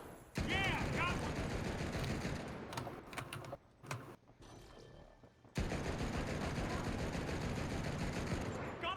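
Rapid bursts of gunfire from a weapon in the first-person shooter The Finals ring out loud and close, cutting out briefly mid-clip before resuming as sustained firing, with a voice talking over the action.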